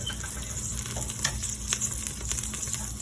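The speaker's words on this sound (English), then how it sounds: "I'm gonna fry some onions as well" Onions fry in oil in a pot for a Malawi-style local chicken stew, giving a close, steady crackling sizzle with soft stirring scrapes and no talking.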